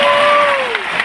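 An audience at a religious talk in Kupang, NTT, claps in a dense, steady burst of applause heard close, with some crowd voices mixed in over the short span.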